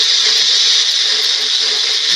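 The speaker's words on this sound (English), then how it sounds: "now it's ready to get put into the blender" A kitchen blender running steadily, a loud, even hissing whir close by with no break.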